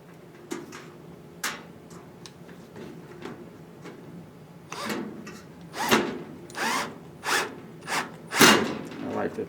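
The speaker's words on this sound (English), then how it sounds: "I like to use power tools." A power drill drives screws into a metal Ikea Helmer drawer cabinet, short whirring bursts that grow louder and closer toward the end, with faint clicks between them.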